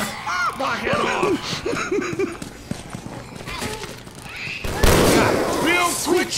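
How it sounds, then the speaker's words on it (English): Left 4 Dead 2 gunfire from the custom campaign The Divide: Reborn, with shots and booms landing among loud, excited voices and a heavy burst toward the end. "Quit shooting!"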